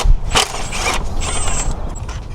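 Hand wrench loosening bolts during an intercooler install on a 2022+ Subaru WRX, with close, loud mechanical clicking and creaking in short bursts, no voices.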